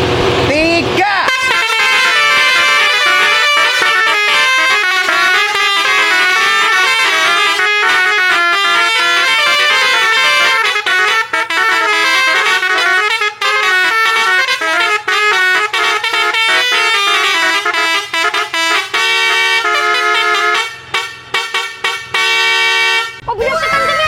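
Two basuri air horns, one chrome and one black, blast together in a loud, sustained, multi-toned chord for over twenty seconds, with brief stutters near the end before cutting off.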